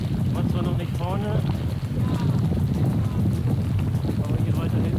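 Strong wind buffeting a cyclist riding on a long-distance audax brevet by the Schlei, a continuous low roaring rumble and microphone gusts close by, with someone talking over it.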